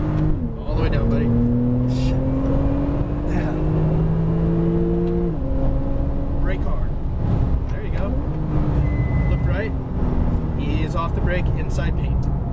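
A Porsche 911 Turbo accelerates around a track, its engine rising in pitch through repeated gear changes, heard from inside the car beneath an instructor's steady coaching.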